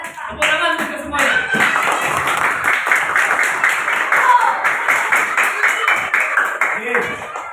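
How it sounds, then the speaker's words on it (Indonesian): Group of people in a classroom coaching session clapping hands together, a dense continuous patter of applause for several seconds with voices mixed in. "Tepuk tangan untuk semuanya."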